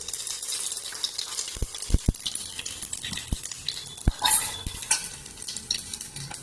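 Bay leaves drop into hot oil that has just fried potatoes, giving a soft sizzle punctuated by sharp clinks and taps of a utensil against the pan, with no one speaking.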